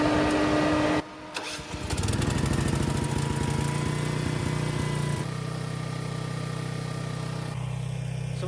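An RV generator engine catches after a choke adjustment and settles into a steady, loud, close idle with a droning hum, following a brief dip as it sputters to life.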